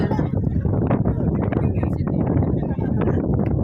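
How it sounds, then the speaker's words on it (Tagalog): Heavy wind buffets the microphone in a constant low roar, rumbling and gusting throughout without pause. "Ang lakas ng hangin."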